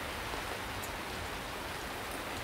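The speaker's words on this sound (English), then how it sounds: "It's raining." Steady rain falls during winter at a game reserve campsite in South Africa, a continuous dense hiss of drops without pause, close and even throughout, with no voices.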